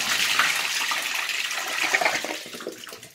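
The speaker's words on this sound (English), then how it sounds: "Yeah, that is a swirly flush." A vintage-style toilet gives a swirly flush, a loud, steady gush of rushing water that swirls for about three seconds and begins to taper at the end, with no talking over it.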